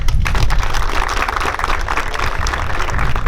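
An audience at a French military ceremony applauds the instructors, dense sustained clapping from a large crowd, loud and continuous throughout with no speech over it.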